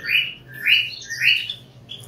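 Java sparrows in an aviary chirp in short, high, repeated calls, about three bright tweets in quick succession, close by with no talking.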